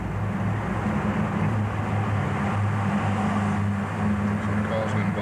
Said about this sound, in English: Some cars going by.